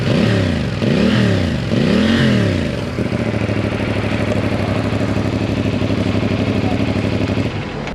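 A CL-C 450 motorcycle with its stock exhaust, heard up close: three rising revs in quick succession, then a steady, loud, throbbing idle.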